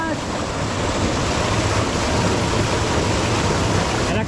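Strong rushing water roars in a dense, constant broadband wash, loud and close throughout with no breaks or talk.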